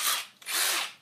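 A Dewalt XR cordless brushless drill spins up, cuts out for an instant, then revs again, a short high-pitched whir heard close with no voices.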